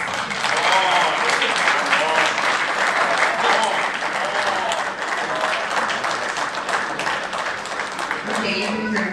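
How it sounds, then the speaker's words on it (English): A graduation ceremony crowd at UTI claps loudly and continuously for graduates' families and friends, a dense sustained roar of hands with voices mixed in, and someone speaking near the end. "please show them your appreciation by giving them a round of applause"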